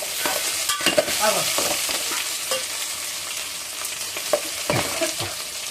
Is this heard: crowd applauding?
no